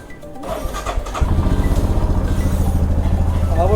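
A motorcycle engine cranks and catches at the start of a ride on a snowy Manali trip, then settles into a loud, steady, close-up idle with a rapid, even pulse.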